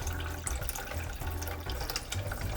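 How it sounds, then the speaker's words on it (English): Vegetable stock poured into a pot of bottle gourd soup, a steady liquid splash and gurgle running continuously at close range with no talking. "add this veggie stock."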